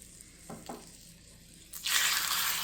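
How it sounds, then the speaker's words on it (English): A few soft clicks and clinks, then a sudden bright sizzle of seasoned chicken hitting hot oil in a multicooker that keeps crackling steadily. "Oh yeah, that's a nice sizzle."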